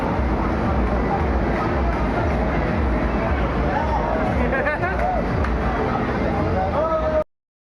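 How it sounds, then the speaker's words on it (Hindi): The Dayodaya Express, train 12182, pulls out of Sawai Madhopur Junction station with a heavy rolling rumble and rhythmic clatter under crowd chatter on the platform, cutting off abruptly at the end. "तो 12:182 दयोदय एक्सप्रेस डिपार्चर कर रही है Sawai Madhopur junction railway station से"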